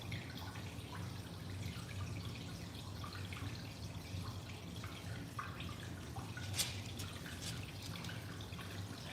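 Water runs and drips quietly and steadily during aquarium maintenance, with a few brighter splashes near the end.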